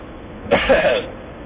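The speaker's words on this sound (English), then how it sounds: "Ouch. That cough hurt." A single short, rough cough sounds close by, a quick harsh burst lasting about half a second in an otherwise quiet moment.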